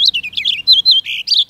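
Several bright, quick bird chirps at a water bird feeder, close and loud, come in short bursts and trills with brief gaps between them and no voices.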